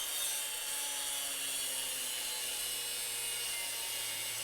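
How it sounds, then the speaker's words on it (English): Angle grinder cutting through metal, a steady harsh high-pitched whine and hiss running without a break, loud and close, with no talking. "I'm going to go back to the grinder real quick, to the angle grinder"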